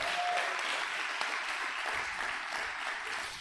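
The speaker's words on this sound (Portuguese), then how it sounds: "Uma salva de palmas para Jesus." A church congregation claps for Jesus at a service, a steady, dense wash of applause held evenly from start to finish, with no one talking over it.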